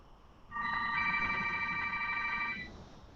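A telephone rings once during a live satsang gathering. The electronic ring is bright and clear, lasts about two seconds, and is fairly close, with no voices over it.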